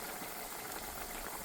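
Hot oil in a pan for frying hot water cornbread, a steady soft bubbling sizzle heard close and faint without talk.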